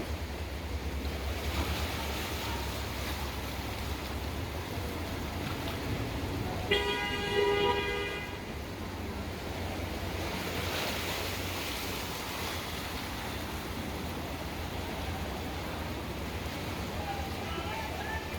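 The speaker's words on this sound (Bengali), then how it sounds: "ঢাকা শহর রোডের ভিতরে এইভাবে পানি ঢেউ গেল সমুদ্রের মতো ঢেউ" Steady broadband rush of surging floodwater waves washing across a city street in Dhaka during Cyclone Remal, with low rumble throughout and a brief horn toot partway through.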